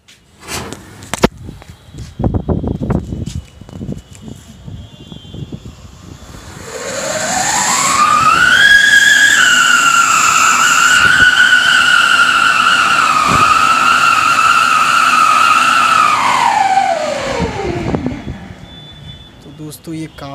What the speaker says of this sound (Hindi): तो दोस्तों ये रहा हमारा कॉक ब्रांड का सायरन